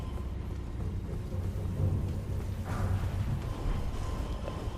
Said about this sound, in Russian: Гром за окном.